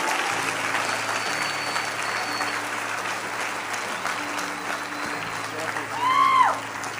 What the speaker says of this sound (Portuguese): Dê uma salva de palmas a Ele.